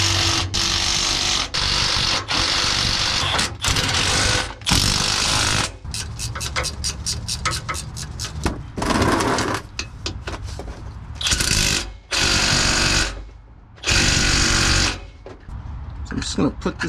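Power tool driving bolts into a Nissan Xterra differential in a garage, repeated loud whirring bursts of varying length separated by short pauses, with rapid stuttering impacts in the middle.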